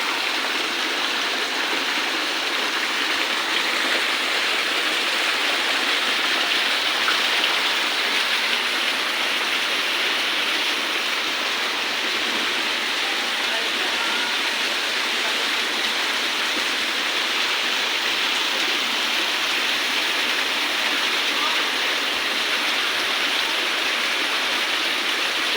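Water from a waterfall on Mount Banahaw in Quezon rushes in a steady, loud roar that stays even throughout, with no voices.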